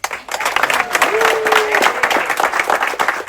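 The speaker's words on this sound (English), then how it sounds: "Big applause for our waiter Tini" A cruise ship crew celebration, with passengers applauding their waiter: loud, close clapping from a crowd, mixed with scattered cheers and a brief whistle-like tone, with a hint of voices underneath.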